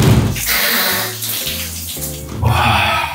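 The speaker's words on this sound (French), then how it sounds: "petite eau chaude pour bien finir cette douche" A shower runs hot water in a continuous splashing hiss close by, its tone shifting as the flow strikes different surfaces.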